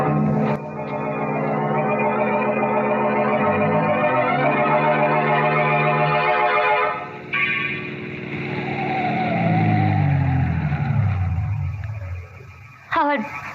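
A 1940s radio drama car effect: an engine revs and drones loudly as the car pulls away, shifting pitch as it accelerates, then slows with a brief clunk near the end.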